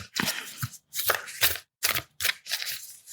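A tarot card deck being shuffled by hand, giving bursts of crisp riffling and flicking in short uneven groups with brief pauses between them, close and fairly quiet, with no talk.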